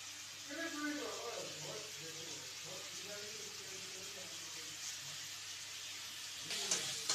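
Sliced onions fry in a pan with a soft, continuous sizzle and hiss that runs steadily beneath a person talking, with a brief clatter near the end.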